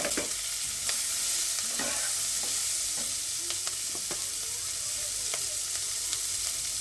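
Onion and green chili fry in oil in a wok, giving a steady close sizzle broken by sharp scrapes and clicks as a spatula stirs every second or so, with no voices.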